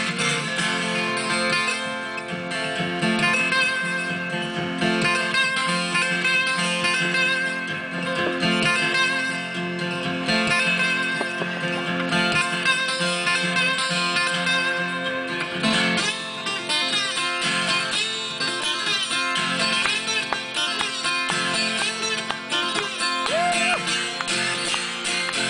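Guitar playing a train imitation in the style of Bukka White's Panama Limited, with dense, continuous strummed and slid notes evoking a distant, lonesome train, steady and moderately loud throughout with no speech.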